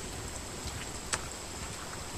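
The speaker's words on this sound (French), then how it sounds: "il pleut" Steady, soft hiss of video game rainfall with a faint high tone running throughout and a brief click partway through; no voices.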